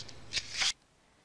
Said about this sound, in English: I'm continuing to flip through some of these papers